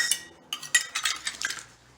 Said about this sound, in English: I'm just going to pour 1/2 cup of the chocolate chips